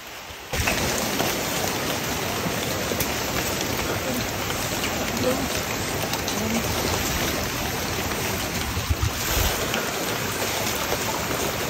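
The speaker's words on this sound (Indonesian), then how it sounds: "Cuma di sini hujan, hujan lumayan gede." Heavy rain pours steadily on a Mount Salak hiking trail in the rainy season, a dense, loud, continuous hiss of drops on foliage and ground that keeps up throughout with no voices.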